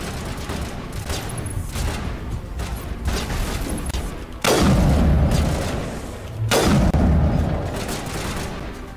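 Gunfire in a Mass Effect firefight: a steady stream of rapid shots rattles throughout, broken by two heavy booming blasts that stand out loud and close.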